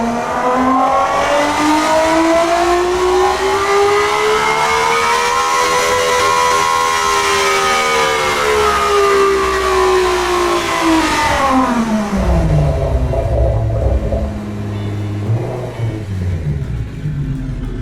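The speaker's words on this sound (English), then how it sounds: "And now let's rev it up." A car engine in a video game under development revs loud and close, pitch sweeping up, holding high, then dropping back to a deep rumbling idle with a few throaty blips.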